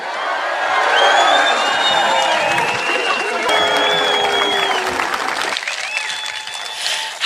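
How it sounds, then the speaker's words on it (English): Loud rally crowd in Edinburgh applauding and cheering together, with whoops and whistles over steady clapping that swells then eases slightly before rising again at the end. "So I want you to give the biggest cheer of the day for Believe in Scotland's brand new youth wing."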